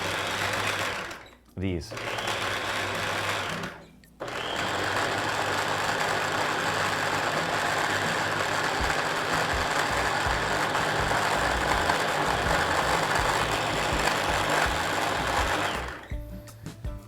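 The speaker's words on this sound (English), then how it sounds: "make sure that you hold the blender down for a little while" Blender motor running steadily while pureeing apple and broccoli into baby food, loud and continuous with two short pauses early on; brief talking near the start and end.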